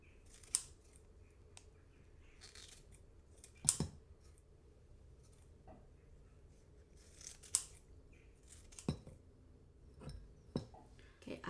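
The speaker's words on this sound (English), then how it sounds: "I will cut it a little bit because it's just too long." Kitchen scissors snip pickled celtuce stem pieces in a few sharp, isolated clicks spaced seconds apart against a quiet background.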